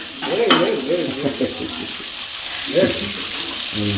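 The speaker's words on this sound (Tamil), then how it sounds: "இப்போ தான் ஒரு சைடு வேகுது" Fish frying in a pan sends up a steady, close hiss of sizzling oil while people talk over it intermittently.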